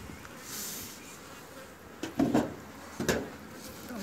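Honey bees hum around an opened beehive as colonies come out of winter during a pollen and nectar shortage. A soft buzz runs under a few close knocks and clunks of hive handling, with no talking.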